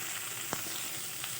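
Rice flour fries in a pan while being stirred, producing a steady close sizzle with a brief soft scrape partway through.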